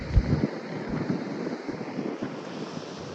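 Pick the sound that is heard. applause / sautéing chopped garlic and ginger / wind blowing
wind blowing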